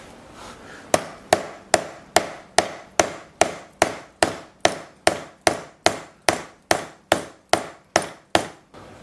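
A hammer drives a tapered wooden dowel through a steel dowel station, ringing in sharp, loud, evenly spaced strikes, about twenty in a row, each with a short metallic ring, close up and with no talking.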